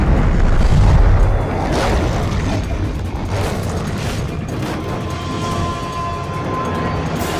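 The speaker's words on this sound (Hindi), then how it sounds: "हमने टारगेट पर निशाना छोड़ दिया है। टारगेट उड़ा दिया गया है।" A bridge target is blown up in a dubbed action movie, a loud boom and burst opening the scene, then a heavy rolling rumble of debris and fire that stays dense and loud to the end.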